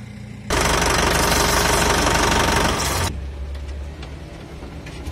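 Loud, harsh mechanical clatter from an engine with a broken pump and a snapped bolt, running steadily for a few seconds before dropping to a lower rumbling idle.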